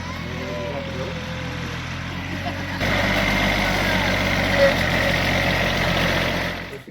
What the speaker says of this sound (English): he's driving a tractor with Ella Bracha.